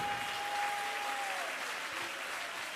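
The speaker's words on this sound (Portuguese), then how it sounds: "Você pode aplaudir a Ele." A church congregation breaks into dense, sustained applause, the clapping steady and full throughout, with a thin sustained tone running through the first half.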